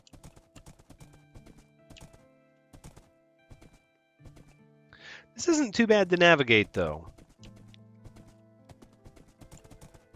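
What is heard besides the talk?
horse galloping in Minecraft (video game)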